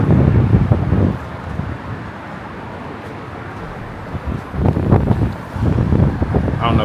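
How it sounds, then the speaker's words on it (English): Strong wind buffets the microphone on a hotel balcony overlooking the bay in Miami, roaring in loud gusts that ease briefly in the middle before surging again. "It's windy."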